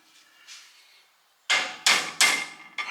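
A hammer strikes the wheel of a 1968 Pontiac GTO: after a couple of faint knocks, four loud, sharp metallic blows land in quick succession, each ringing briefly before the next.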